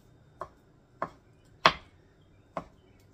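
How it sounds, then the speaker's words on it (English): A knife chops crab rangoon filling into small pieces on a cutting board, four crisp, distinct strikes at uneven intervals, close and fairly loud in a quiet kitchen. "Now it's supposed to be in really small pieces, so I'm going to chop it this way first."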